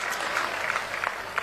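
Audience applause at a stage event with saints, journalists and devotees, a dense, continuous patter of many hands clapping, fairly loud and steady throughout.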